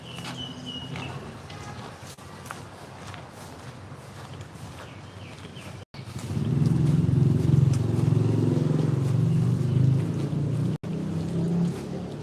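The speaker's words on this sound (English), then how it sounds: "Yeah, I like the sound of water" Water runs steadily near a temple-style structure in Chiang Rai, Thailand. It makes a constant broadband rush that grows louder partway through, with faint street ambience behind it.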